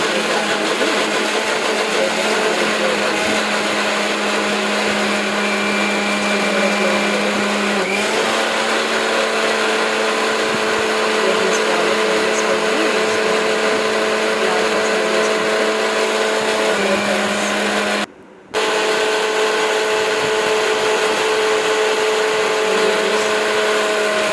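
A kitchen mixer grinder blends raw beetroot into juice with a loud, continuous close-up whir that holds steady for over twenty seconds and cuts out for a moment near the end.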